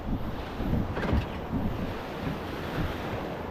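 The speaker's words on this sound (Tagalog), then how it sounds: "Malalaki pala alon" Large sea waves wash around a small fishing boat, a steady rushing surge of water with wind buffeting the microphone. Swells rise and fall, with a slightly stronger splash in the middle.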